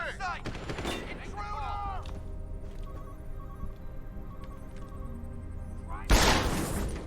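Gunfire in the Deus Ex: Human Revolution video game: a few sharp shots early on and a heavy burst near the end, amid game ambience, with voices talking in places.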